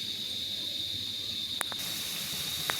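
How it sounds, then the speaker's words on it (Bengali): Pitha frying in oil gives off a steady, moderate hiss, with a couple of faint clicks over the continuous sizzle. "কি সুন্দর এদিকে ভাজা হচ্ছে"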